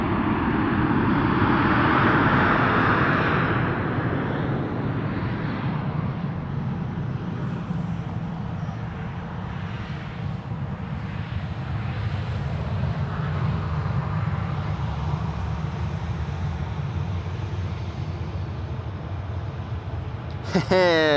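A jet departs from runway 18 Left at a wintry Amsterdam Schiphol Airport, a steady distant roar and rumble that fills the whole stretch beneath a speaking voice.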